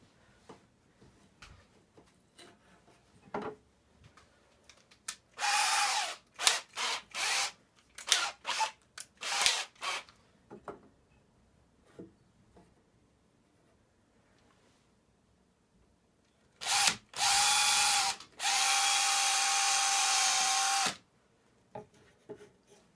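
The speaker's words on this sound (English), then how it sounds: "So I'm going to drill a couple of holes in it" A power drill bores holes in a support beam for a graphics card mount, sounding in two separate runs of steady high-pitched whirring with short starts and stops, between quieter handling clicks and knocks.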